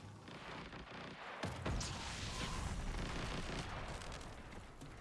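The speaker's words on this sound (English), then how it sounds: "I can hear a bunch of explosions." Booming explosions and gunfire in a competitive online shooter match, a sudden heavy blast after a quieter stretch followed by rumbling bursts and scattered shots, loud and sustained without speech.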